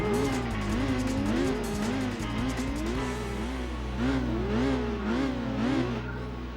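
An MG TF160 racing around the Hong Kong circuit in Gran Turismo 4, its engine note rising and falling steadily through gear changes with tire squeal through the corners, loud and continuous.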